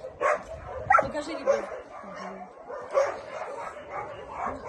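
Excited dogs waiting for gifts bark and yip in short, close bursts, with whimpering between, while a person's voice talks over them.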